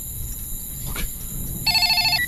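A telephone in the horror game Pamali: The Tied Corpse rings with a repeated electronic trill in short regular pulses near the end, over a quiet night ambience with insect-like chirping.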